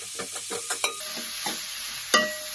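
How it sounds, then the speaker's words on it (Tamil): Green chillies sauté in oil for a country chicken fry, with quick spatula scrapes and stirs over a light sizzle, a few sharp clinks, close and without speech. "பச்சை மிளகாய், இதை நன்றாக வதக்கவும்."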